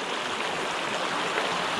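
Clear Victorian trout stream rushing over rocks through rapids, a steady, close, full-bodied wash of water with no other sounds.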